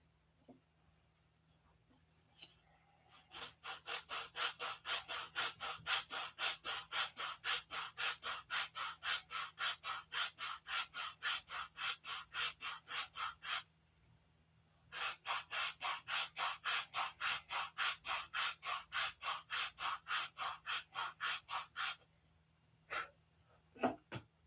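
Rapid back-and-forth sanding strokes on a P-47 model wingtip, fast and steady in two long bursts separated by a short pause, close and fairly loud with no talking.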